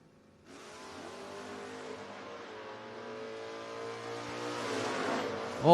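A Mustang drag race car launches and accelerates down a footbrake drag strip, its engine roar rising steadily from a quiet start and building to a loud, strained climax, with no talking.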